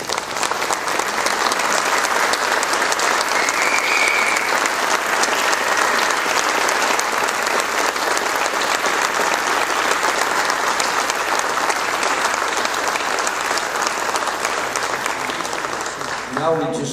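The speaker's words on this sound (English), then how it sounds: "let's give them a huge round of applause" Sustained loud applause from a large crowd at an athletic hall of fame induction ceremony, dense steady clapping that fills the whole stretch and only begins to thin at the very end.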